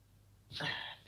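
A single short sneeze, fairly close and moderately loud, after a moment of near silence.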